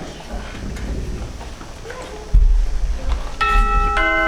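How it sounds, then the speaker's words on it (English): A two-tone chime rings out over a murmur of background voices, its bright tones lingering near the end. "The doorbell rang."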